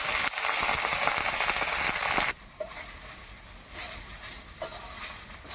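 Rice drops into hot ghee with bay leaf, cardamom and cloves, a loud, dense sizzle that cuts off abruptly, leaving a quieter crackle and faint stirring nearby.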